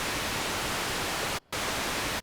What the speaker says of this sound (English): I'm going to start again with this white noise